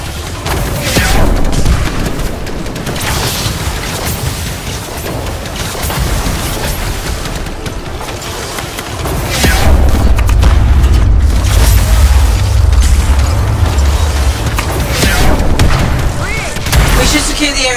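Heavy booming explosions from the video game Anthem, with a deep sustained rumble swelling in the second half amid dense sci-fi combat noise.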